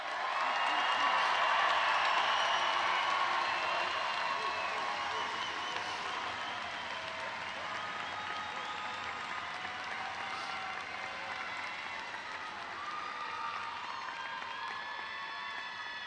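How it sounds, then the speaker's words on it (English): Sustained applause from an audience at a high school graduation ceremony, a broad continuous wash of clapping from a large crowd that swells early and then settles to a steady level for the whole stretch. "Let's give our graduates a round of applause."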